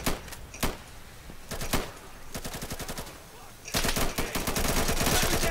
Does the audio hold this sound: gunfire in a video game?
yes